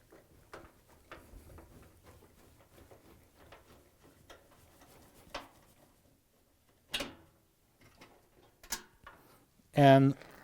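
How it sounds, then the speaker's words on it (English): Torx 20 screwdriver backing out the rear panel screws on a Frigidaire washer: scattered faint clicks and ratcheting ticks, then a few louder clanks near the end as screws or the panel knock. "We're going to use a Torx 20 screwdriver and remove them all."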